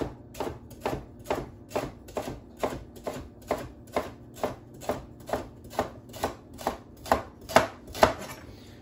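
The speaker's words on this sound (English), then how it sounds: "you're just gonna chop it into little thin pieces, about half inch pieces, just like this" A knife chops rhubarb into thin half-inch pieces on a board, about sixteen crisp, evenly spaced strokes that land close and clear and speed up slightly near the end, with no talking.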